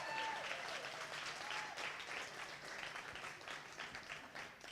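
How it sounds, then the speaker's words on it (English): A comedy club audience claps for a volunteer called up from the crowd, steady applause at moderate distance that carries on throughout and tapers slightly near the end. "Let's give her a big round of applause."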